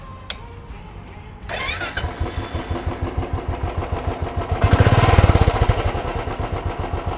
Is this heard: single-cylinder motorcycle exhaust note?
yes